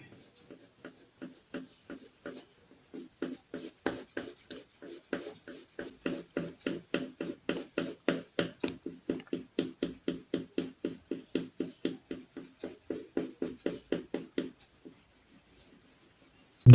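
A pencil scratches rhythmic back-and-forth strokes across a drawing surface to build texture, a close, dry series of short rasping strokes that quickens into a steady run before stopping, with no talking.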